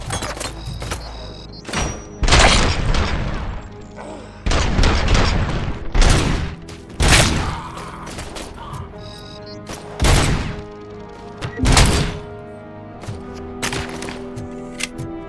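Gunfire in the video game RoboCop: Rogue City comes in loud sharp bursts and single booming shots separated by short pauses, with brief game dialogue between volleys.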